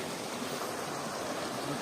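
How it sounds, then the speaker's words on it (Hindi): A small mountain waterfall stream runs along a trekking route in Ladakh, giving a steady, close, broadband rush of flowing water that holds constant throughout, with no voices. "ये देखो एक मिनी वाटरफॉल हम लोगों को रास्ते में मिला।"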